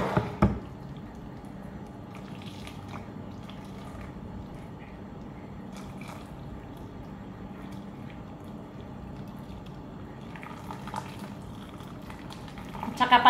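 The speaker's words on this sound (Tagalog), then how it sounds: "Kulo na siya." Fish broth with moringa leaves bubbles in a pot, a soft continuous simmer with small pops and drips, close and fairly quiet, and a few louder handling knocks at the start and end.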